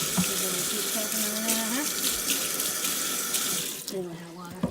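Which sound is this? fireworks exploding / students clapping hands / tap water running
tap water running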